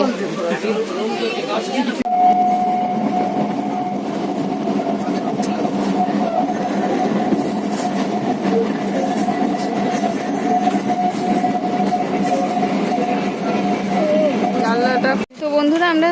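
A train at a railway station, with a sustained loud rumble and a steady tonal hum from the rail cars under busy crowd chatter and voices close by, ending with a short sharp dropout.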